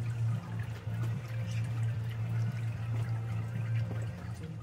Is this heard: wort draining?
yes